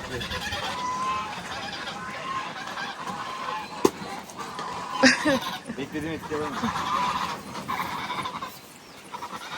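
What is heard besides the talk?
geese honking while eating watermelon rinds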